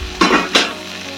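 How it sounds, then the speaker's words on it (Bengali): Fried potatoes tipped into a sizzling fish curry with drumsticks in a pan, two quick loud bursts of spitting sizzle a moment apart, settling into a softer steady fry. "এবার ভেজে রাখা আলুগুলো দিয়ে দেবো।"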